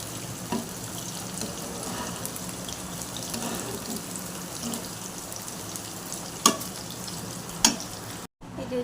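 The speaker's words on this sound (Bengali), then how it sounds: "চালগুলো ভাজা ভাজা হয়ে গেছে" Rice grains frying and being stirred in a pan, a continuous close sizzle with scraping stir strokes and a couple of sharper clinks near the end.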